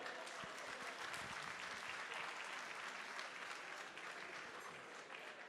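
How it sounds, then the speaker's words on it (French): An audience at a French gastronomy awards evening applauds trophy winners, dense sustained clapping from a sizable crowd, steady and loud throughout. "je vous demande de les applaudir"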